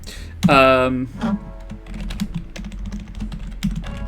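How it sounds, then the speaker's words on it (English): A computer keyboard squeaks on a desk as it is dragged: a loud, tonal squeal near the start, then a shorter scrape, followed by light key tapping and small knocks. "That's my keyboard squeaking on the desk as I moved it."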